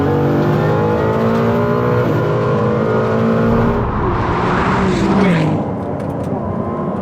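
Ferrari 296 GT3 race car accelerating hard off the line in a drag race against a road car: loud, close engine roar climbing steadily in pitch, with a gear change near the end dropping the revs.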